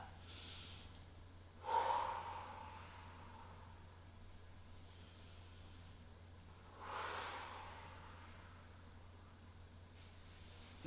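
Two slow, breathy exhalations during a seated leg stretch in an exercise class, each a soft hiss rising then fading, several seconds apart over a low steady hum.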